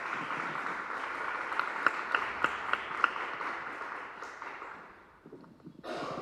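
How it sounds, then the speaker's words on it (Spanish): An audience at a literary festival colloquium in Antequera gives a welcoming round of applause, a moderate patter of clapping with a few sharper claps that fades out, then a brief shuffle. "os pido un aplauso de bienvenida para Rodrigo Blanco Calderón a Las Cosas del Campo"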